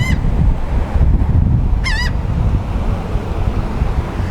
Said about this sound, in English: A bird and a dog.